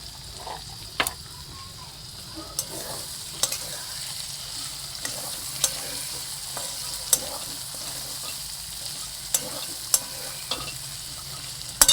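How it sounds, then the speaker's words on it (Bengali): Chopped tomato sautéing in a pan, a soft steady sizzle with occasional sharp taps and scrapes from a spoon, fairly quiet and close, without speech. "আর এটা ভালো করে কষাবো।"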